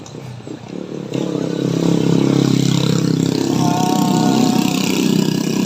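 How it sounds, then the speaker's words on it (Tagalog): A motorcycle engine roars loudly and steadily close by on a road under drainage repair work, with a quieter start before the sound swells and holds. "Motor."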